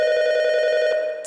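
A telephone rings in the horror video game Saturday Night at Freddy's, one steady, loud, close electronic ring with a bright tone, heard alone with no talking.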